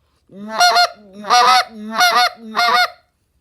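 A goose call tuned a little differently from typical calls, blown close and loud in four rhythmic honking clucks, each with a rising-then-breaking tone, evenly spaced and heard alone without speech.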